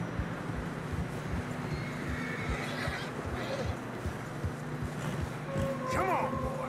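A horse whinnies near the end in snowy terrain in Red Dead Redemption 2, over steady low rumbling game ambience and faint hoof clops.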